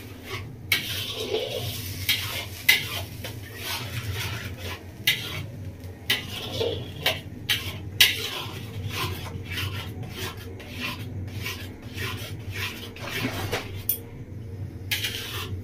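Spices being stirred in a pan over a low gas flame for a Bengali village-style doi katla curry, with repeated scraping and rasping strokes of a spoon against metal in an irregular rhythm, close and moderately loud.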